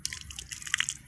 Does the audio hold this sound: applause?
no